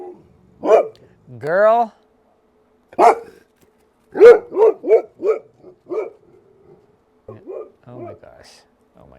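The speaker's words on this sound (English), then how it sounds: "She's barking at him." A dog barks repeatedly in sharp, close bursts, with a few whiny yips mixed in, while people talk over and between the barks.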